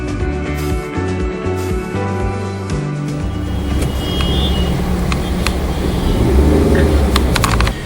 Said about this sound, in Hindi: आप देख सकते हैं कि यहाँ से कितना ट्रैफिक जैम शुरू हो गया है